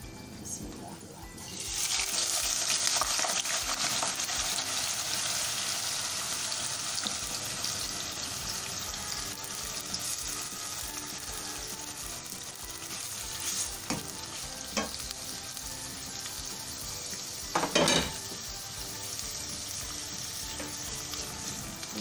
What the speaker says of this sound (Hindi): ऑयल गरम हो गया, अब इसमें हम डाल देंगे प्याज।